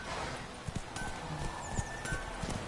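Roach, Geralt's horse in The Witcher 3: Wild Hunt, moving with soft hoof clip-clops and a brief whinny over a quiet ambient game background.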